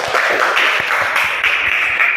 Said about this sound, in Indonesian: Tepuk tangan untuk Rizka.